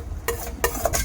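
A spoon scrapes and stirs chicken offal curry with fermented bamboo shoots in a pot, three gritty strokes close up over a soft background sizzle.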